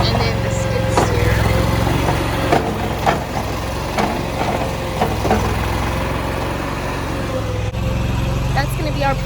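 A skid steer engine idles steadily in a backyard, a low continuous rumble with a few small knocks, while people talk over it.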